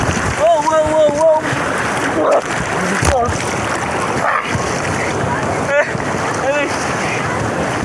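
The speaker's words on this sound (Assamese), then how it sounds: "এনেকুৱা স্পীডত ঢৌটো আহিছে" Fast sea waves off Goa splash and wash against a moving boat amid strong wind rumble on the microphone, with people talking and exclaiming over the rushing water.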